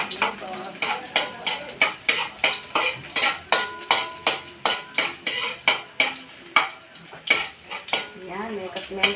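Garlic sautéing in a pan as a utensil stirs it in steady, rhythmic scrapes, each stroke a bright clatter over a soft sizzle, with a voice faintly present.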